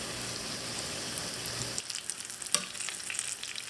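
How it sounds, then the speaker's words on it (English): Fish fillets frying in hot oil until crispy give a steady, close sizzle that drops to a quieter, crackling spatter partway through, with a sharp pop near the end. "Look how crispy that fish is."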